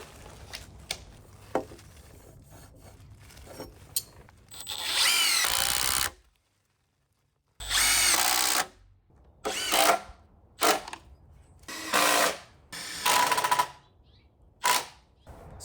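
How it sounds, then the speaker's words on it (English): A power drill drives structural screws into the joists of a shed floor frame, sounding as a series of loud whirring bursts, each a second or two long, separated by short pauses, close by with faint knocks between. "I'm just going to put one structural screw in each of these joists on this side"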